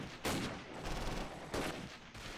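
Gunfire in the Close Combat wargame, a set in the Second Battle of Belgorod near Kharkov, comes as dense bursts of shots and rattling fire under a constant battle din, with no voices.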